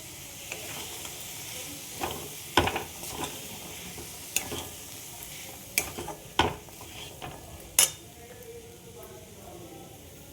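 Boiled black chickpeas being stirred into spices in a pan, with a low steady sizzle and sharp intermittent scrapes and clacks of the spoon against the pan.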